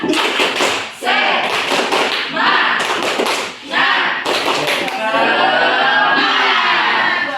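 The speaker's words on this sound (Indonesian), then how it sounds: "kita tepuk semangat terlebih dahulu" A school class claps in unison in a rhythmic spirit clap, loud sharp bursts in a patterned beat that break off briefly, with children chanting along between and over the claps.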